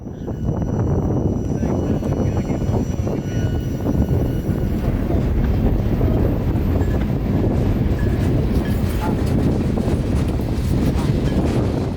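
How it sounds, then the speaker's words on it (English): Q453, a daily mixed freight train, rumbles through a road crossing on the south leg of the Winston Y off the old Tampa Highway in Florida. A loud, steady roar of wheels and cars carries on throughout, with wind buffeting the microphone. "So here she is, Q453, a daily mixed freight on their way from Waycross to Miami"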